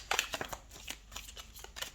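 Tarot cards are shuffled and drawn, a soft close flutter of riffling card edges in quick bursts that taper into lighter slides and taps.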